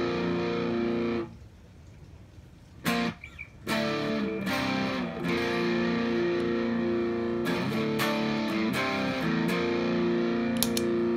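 Electric guitar through a Hologram Microcosm distortion set to low gain, not fuzz, sustained chords ringing out with a brief pause, moderately loud, no voices.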